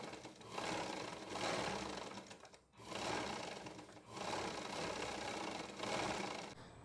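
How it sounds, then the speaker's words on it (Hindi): Sewing machine running a loose basting seam across folded pant fabric, two long steady whirring runs separated by a brief pause, quiet and close with no talking. "अब इसको इसके ऊपर फोल्ड कर देंगे और ये सिलाई कच्ची लगाएंगे"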